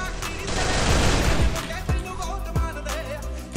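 Rapid bursts of gunfire in the video game Garena Free Fire crackle in quick succession, dense at first then thinning to scattered single shots, loud and close.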